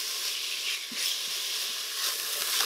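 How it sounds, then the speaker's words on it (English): Onions, ginger and garlic sauté in an Instant Pot, giving off a soft, steady sizzle and hiss with a few faint stirring ticks, close and quiet, with no talking. "you're gonna let this saute for 2 minutes"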